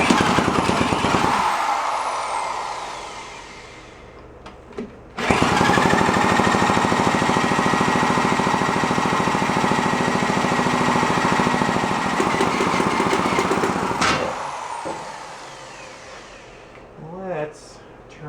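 A barn-find 1965 Vespa scooter engine starts up and runs loudly, chattering in a rough, rapid two-stroke buzz that steadies, dies back, then runs again, followed by someone speaking near the end.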